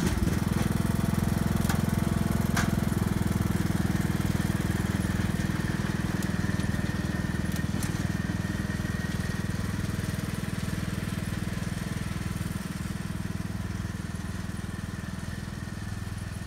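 A Troy-Bilt riding mower engine runs at a steady, loud, close drone while dragging a sled of soil, with a faint voice at times under the engine.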